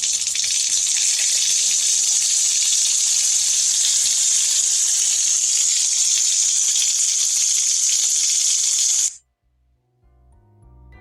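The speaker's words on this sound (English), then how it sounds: "I tried turning on the tap. Blood water." Water gushing loudly and steadily from a tap in a video game hotel bathroom where the tap runs blood-red water, a close, constant hissing stream that cuts off abruptly near the end.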